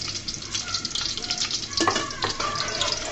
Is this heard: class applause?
no